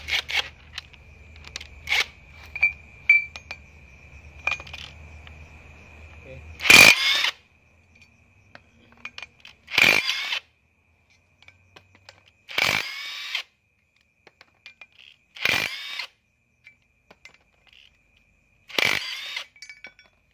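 Power tool loosening size-14 bolts on a motorcycle disc brake rotor: five separate short loud bursts, evenly spaced every few seconds and separated by silence, with a faint hum early on.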